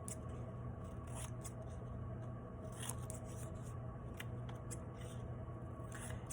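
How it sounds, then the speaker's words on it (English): Scissors snip paper diagonally corner to corner into triangles for a collage, a series of quiet, sharp cuts scattered irregularly over a low background hiss, close and faint with no talking. "I'm creating my triangles by cutting on a diagonal, corner to corner, as I go"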